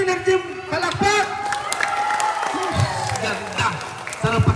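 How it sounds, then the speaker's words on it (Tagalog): A crowd of locals in Donsol applauds and cheers at a community gathering, energetic clapping and shouts layered with voices throughout, with a speaker's voice rising over the noise. "isang energy palakpak!"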